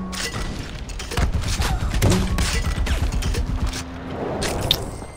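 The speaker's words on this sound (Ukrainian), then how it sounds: "По кому ти там стріляєш?" Gunfire in the video game Far Cry 4: dense, rapid bursts of shots and booming impacts that run almost nonstop at a loud, steady level, with a brief voice under the noise.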